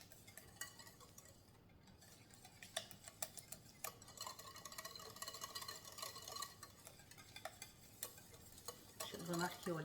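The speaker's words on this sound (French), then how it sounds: "On mélange tout ça." A spoon stirs strawberry cookie dough in a bowl, giving faint, quick scraping taps in an irregular rhythm that grow slightly louder at the end.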